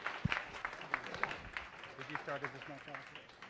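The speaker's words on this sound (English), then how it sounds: "Give them a round of applause." Audience applause at a science cafe talk on ticks and mosquitoes, scattered clapping from a small crowd, fairly faint and mixed with a voice speaking over it.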